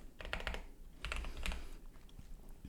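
Rapid clusters of keystrokes on a computer keyboard while entering a pip install command in a Google Colab notebook, clicking in short bursts with brief pauses, close and fairly quiet, no voices.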